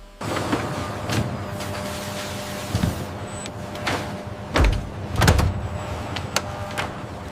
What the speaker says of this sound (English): With the locking of these massive doors